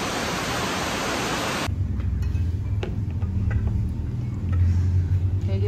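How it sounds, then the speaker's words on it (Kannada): Heavy rain in Bangkok pours as a loud, dense hiss for the first couple of seconds, then cuts abruptly to a quieter indoor ambience with a low hum and faint clicks. "ಫುಲ್ ಜೋರು ಮಳೆ ಸ್ಟಾರ್ಟ್ ಆಗಿಬಿಟ್ಟಿದೆ"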